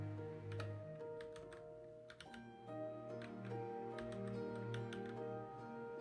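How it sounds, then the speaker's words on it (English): Quick, light clicks of keys being tapped on a computer keyboard to enter shortcuts, in short clusters over a steady low tonal hum from a game's background music, quiet and close. "Actually going to use the keyboard shortcuts."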